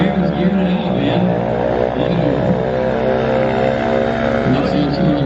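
Race car at a drag strip droning loudly through its gears as it accelerates, with a steady engine roar and a rising shift or two, and voices talking over it.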